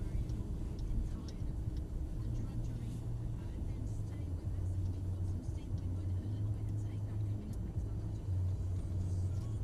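A manual Mercedes car's engine hums as a low, steady rumble throughout, with a spoken voice running over it the whole time.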